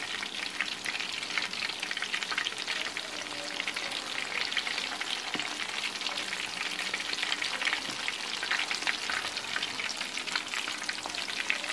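Chicken pieces for chilli chicken frying in oil over a medium flame, a dense, even crackle and sputter with occasional pops and a faint stir, steady and close for the whole stretch.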